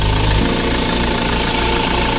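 A 2020 Mahindra Scorpio S11 engine idles steadily and loudly up close, a dense continuous rumble with a faint knocking pulse and no voices.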